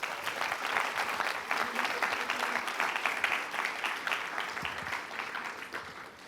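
An audience at a student challenge event applauds in steady, sustained clapping that fills the room for several seconds, gradually easing toward the end.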